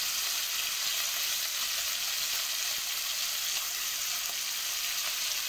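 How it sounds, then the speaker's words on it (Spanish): Chopped onion sizzling steadily in a frying pan while being stirred, during preparation of a lentil dish; a continuous, even hiss at close range with faint scraping, no talk. "vamos a ir moviendo hasta que la cebolla esté cocinada"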